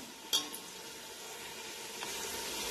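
Masale bhat rice being stirred and roasted in a pan, a steady faint sizzling hiss with a sharp clink of the utensil near the start and a softer tap later.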